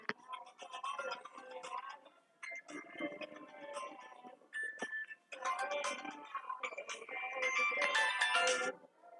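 An incoming call's phone ringtone plays as a repeated melodic tune in a room during a live maths class, fairly loud and continuous for several seconds with no talk over it.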